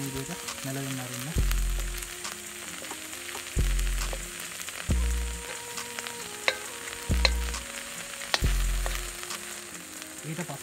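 Potato leaves wilt and fry in hot oil in a pan, a steady crackling sizzle broken by several loud clanks and scrapes of a utensil stirring, close and without speech.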